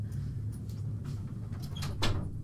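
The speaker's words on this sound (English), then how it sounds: "my dog just had to open up my fucking door" A dog pushing open a room door, giving a few soft knocks and creaks, then one louder bump near the end, over steady low room hum from a gaming setup.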